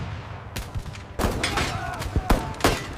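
Suppressing gunfire in a dramatized D-Day landing on Omaha Beach in 1944, with several sharp cracks and bursts over a dense rumbling battle backdrop, some shots close and loud, with faint shouting mixed in.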